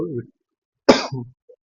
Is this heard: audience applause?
no